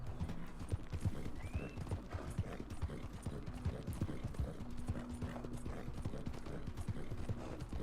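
A horse gallops steadily in Red Dead Redemption 2, its hooves beating a fast, even clip-clop throughout, close and continuous over a low ambient bed.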